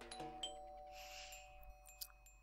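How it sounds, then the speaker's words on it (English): A doorbell rings in a detective video game, a clear two-tone chime at the very start that fades into quiet room ambience. "I rang the bell."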